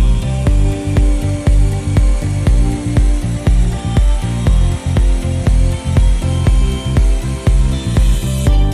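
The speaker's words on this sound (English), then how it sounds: "Demonstration of drilling into the mechanical head." A power drill bores into the mechanical head of a Frontier Pitts Platinum security turnstile during a forced-entry attack test, giving a loud, steady grinding whine broken by repeated rhythmic knocks and judders, close up with no voices.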